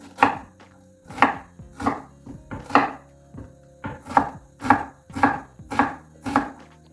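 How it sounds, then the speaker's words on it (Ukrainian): A knife chops steadily on a cutting board, dicing an onion into medium cubes, about ten crisp, evenly spaced strikes with no talking. "Цибулину нарізаємо на такі можна середні кубики."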